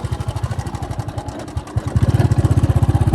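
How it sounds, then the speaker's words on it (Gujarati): A farm tractor engine runs close by with a steady, rapid chugging beat that briefly dips and then returns louder and more regular. "ટ્રેક્ટર હાંકીને ત્યાં જવાનું છે"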